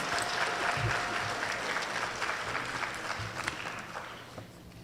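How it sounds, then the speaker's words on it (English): A crowd at a parent awards ceremony keeps up steady applause, many hands clapping together in a continuous, fairly loud wash that gradually thins out. "Give her another round of applause."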